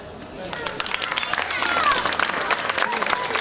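Audience applause during a rehearsal, a dense crowd of clapping that builds and holds steady throughout at moderate loudness.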